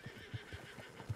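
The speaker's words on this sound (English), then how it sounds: "Hey, it's my horse!" A horse in Red Dead Redemption 2 gives a faint, brief whinny with soft snorting pulses and a few light hoof-like thuds, distant and quiet.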